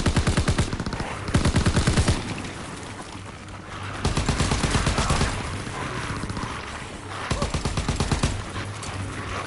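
Rapid automatic gunfire from a WWII shooter game rattles in loud, dense bursts, pausing briefly between volleys over several seconds, with no speech.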